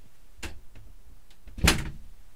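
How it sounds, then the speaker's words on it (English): Indoors, a door swings shut with a soft knock followed by a louder thud a second later, close and fairly quiet. "That's the door closed."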